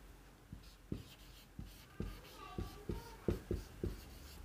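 A pen writes out a chemical equation in a series of distinct scratchy strokes, roughly a dozen short scrapes spaced unevenly, close and clear with no talk over them.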